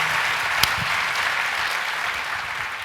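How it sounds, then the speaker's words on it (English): A crowd applauds steadily and loudly throughout, a dense wash of clapping with one sharp clap standing out early. "a round of applause for Dr. Bob Ross, Scott Budnick."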